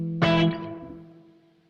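A Gibson ES-335 electric guitar strikes a single chord through effects, a bright distorted attack with chorus shimmer that rings and decays slowly over about a second and a half, alone.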